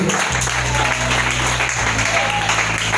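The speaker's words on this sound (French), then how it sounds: "Si tu dois acclamer, tu acclames bien." An audience at a church teaching session applauds in a continuous, loud burst of clapping, with a low sustained tone running underneath.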